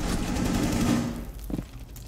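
A dense burst of automatic gunfire from a video game rattles loudly for over a second, then stops, leaving a short trailing thud.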